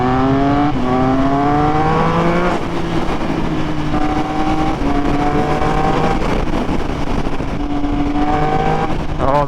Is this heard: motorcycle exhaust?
yes